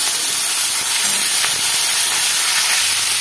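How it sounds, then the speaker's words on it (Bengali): Yardlong beans and potatoes frying in oil in a wok, giving a loud, constant, close hissing sizzle with no talk over it. "বরবটি আর আলুগুলি ভেজে তুলে নেব।"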